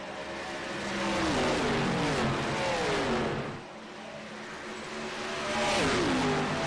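Race cars roar around Darlington Raceway in a racing video game during an Xfinity Series playoff race, engines droning loudly and continuously with rising and falling pitch as cars pass, briefly dipping mid-way before swelling again.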